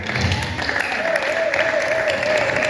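A church congregation applauds during a Sunday service, with sustained, dense clapping from many hands filling the room and a faint tone held beneath.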